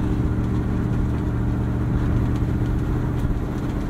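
A Velocity Modern Classics Bronco drives along with a steady, loud, low engine drone and rumble that holds even throughout, close and with no speech.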